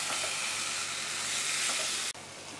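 Mutton liver fries in a pan over a high flame, producing a dense, constant sizzle that cuts out briefly for an instant before resuming at the same level.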